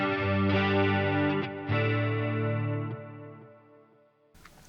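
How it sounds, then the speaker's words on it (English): Sustained electric guitar chords through a Line 6 Helix with delay and reverb in the effects loop ring out with a swirling, layered tail of echoes that slowly fades, then a brief burst of noise at the end. "You can really hear that delay and reverb come through."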